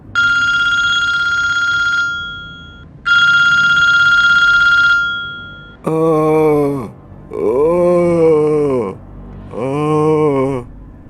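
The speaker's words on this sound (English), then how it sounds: "when the phone started ringing again, he lost his temper" An old-style telephone bell rings in two long bursts, loud and close, followed by three loud drawn-out moaning, groaning vocal wails at night.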